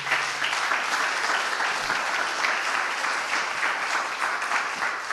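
A church congregation gives sustained, even applause, a thick wash of many hands clapping together at steady volume for several seconds, with no break and no voices standing out.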